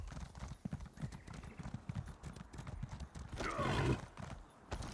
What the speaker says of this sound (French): On va plutôt prendre un cheval.